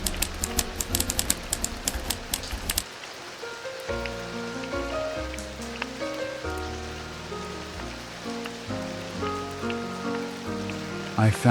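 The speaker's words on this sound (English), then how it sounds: "The rain is here, and the night is still long." Rain patters as dense, rapid droplets for the first few seconds, then fades behind soft, sustained piano notes that carry the rest of the passage.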